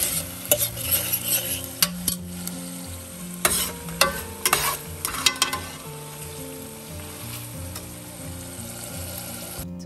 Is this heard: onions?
yes